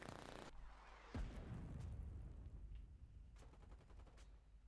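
A gunboat's gun fires in Foxhole: one loud, sharp blast about a second in, followed by a long rolling rumble and scattered distant gunshots and cracks.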